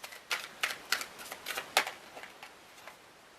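Sacred Forest Oracle tarot cards are handled and shuffled up close, giving a quiet series of crisp snapping flicks at an uneven rhythm, with no talking.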